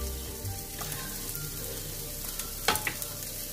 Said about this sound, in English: I'm gonna let this saute up just a little while longer